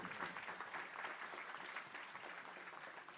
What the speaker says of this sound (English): Round of applause for both of them, please.